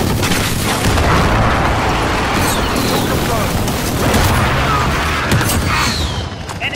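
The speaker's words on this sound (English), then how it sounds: "Airstrike, friendly UAV overhead." Airstrike explosions rumble and boom in a Call of Duty Modern Warfare (2019) match on the Shipment map, a dense, continuous barrage of blasts and gunfire with game voices over it.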